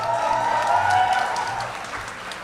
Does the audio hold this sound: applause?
yes